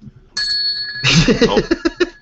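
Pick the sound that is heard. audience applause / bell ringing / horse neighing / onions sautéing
bell ringing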